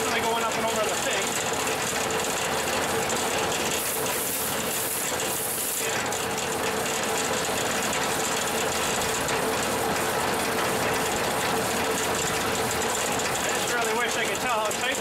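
Small pins rattle on the chain mechanism of a sweeper, a continuous fast mechanical clatter with a ratcheting, gear-like rhythm under a running machine's hum. Steady and close throughout, with a voice faintly mixed in.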